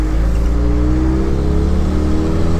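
A small, very low-powered car engine strains steadily as the car climbs a slight incline. The drone is loud and constant, with a slowly rising pitch and no talk over it.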